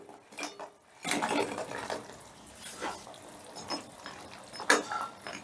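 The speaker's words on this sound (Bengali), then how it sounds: "এবারে আমি দিয়ে দিচ্ছি ভেজে রাখা পকোড়াগুলো" Fried pakoras dropped into simmering gravy in a pan for a chicken-style kosha without chicken, a clatter of pieces and utensil knocks over a soft bubbling wash, with no talk.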